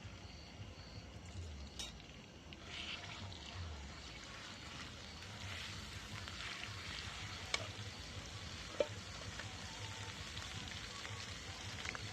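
Asafoetida and ginger-garlic paste sizzling in hot oil in a home kitchen while a fish curry is being made: a steady, soft frying hiss that holds for the whole stretch, with a couple of faint clicks.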